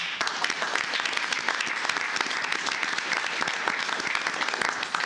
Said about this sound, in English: I think she's due a round of applause for doing that